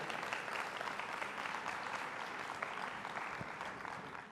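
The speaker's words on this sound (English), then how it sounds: "Let's give a warm round of applause to Tony DeLima." Audience applause at a talk on artificial intelligence, sustained dense clapping from a crowd that stays steady and fades slightly at the end, with no talking.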